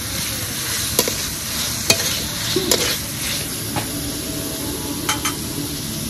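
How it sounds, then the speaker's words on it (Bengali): Potatoes with spices sauté in a hot pan for a Kashmiri mushroom masala, a steady close sizzle broken by a few sharp scrapes and stirring clacks. "আলু দিয়ে একটু কষতে থাকি।"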